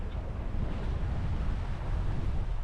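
Steady wind buffeting and rushing waves surround a sailing boat on the open sea between Orkney and Shetland, broad continuous low roar, loud and unbroken, with no voices.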